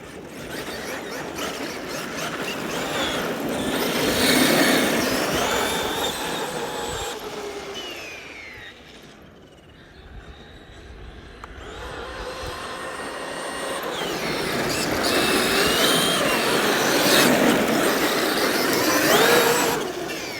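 A Traxxas X-Maxx 8S RC monster truck drifting around a parking lot, its electric motor whining and surging in two long swells with tire scrub, loud and close, fading in the middle before building again.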